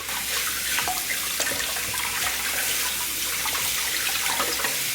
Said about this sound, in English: This is fuzzy melon. Just going to wash it.